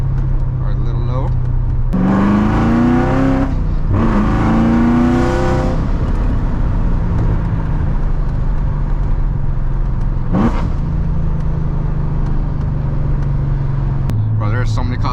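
A loud manual C7 Corvette Z06 revs hard on a cold night drive, with two long climbing pulls early, a short burst later and another at the end, over a steady engine drone.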